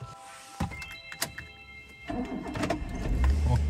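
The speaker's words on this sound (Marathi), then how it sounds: "ओके चला, फर्स्ट स्टार्टर मध्ये चालू झालेली आहे।" A car engine cranks and catches on the first try, preceded by a few door and cabin thunks, then settles into a steady low idle that grows louder toward the end, with no speech.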